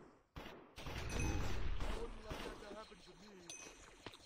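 Incoming missiles exploding in the Minecraft Smash Heroes game, a loud burst of booming blasts and gunfire-like crackle rolling for a couple of seconds, then smaller impacts, with a voice talking over it.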